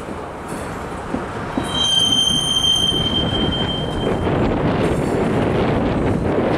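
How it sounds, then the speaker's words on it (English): A coal train's wheels squeal in high, sustained metallic tones as it brakes to a stop, over a low rolling rumble and wind noise, with a second fainter squeal near the end. "That coal train stopped."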